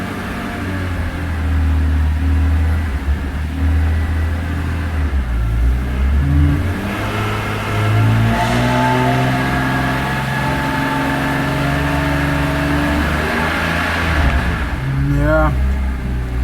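A BMW E46 M3 engine with a suspected VANOS or throttle position sensor fault idling and taking light throttle, its steady drone wavering and stuttering in uneven surges, heard up close with someone talking over it.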